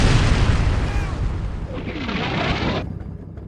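Artillery shells slam into a Normandy hedgerow at Abbaye d'Authie in Combat Mission Normandy, Canada versus Germany, with loud close booms merging into a heavy rolling rumble that cuts off sharply near the end.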